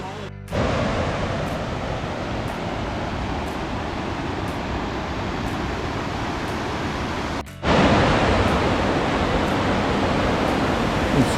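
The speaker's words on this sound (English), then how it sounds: "It's Trout Creek." Trout Creek rushes loudly near an old mine site, a steady broadband wash of flowing water that cuts out briefly and returns slightly louder.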